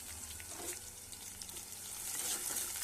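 Onions and green chillies frying in oil after mustard seeds have popped, a soft, steady sizzle heard at low level with faint stirring, growing slightly louder toward the end.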